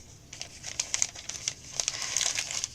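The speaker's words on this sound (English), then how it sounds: "Notice I'm crumpling it." Something is crumpled in a hand, giving a soft, irregular crinkling with scattered crackles that are close by but fairly quiet, and no voice over them.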